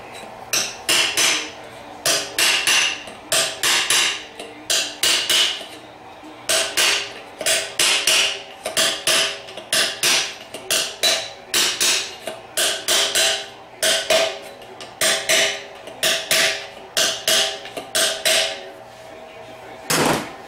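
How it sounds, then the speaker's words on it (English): A metal punch repeatedly taps a governor and cover into a TH350 automatic transmission case, giving loud, close, sharp metallic hammer strikes in steady clustered bursts with brief pauses between groups. "Then you can go ahead and tap that governor and cover into place."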